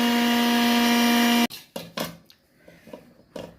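A mixer grinder whirs steadily at loud level while blending cooked spinach into a paste, then cuts off abruptly, followed by several clattering knocks and scraping sounds from the jar.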